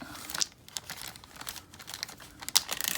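Small plastic bags used for storing knives crinkle and rustle up close, soft continuous handling with a couple of sharper crackles, quiet and without talk.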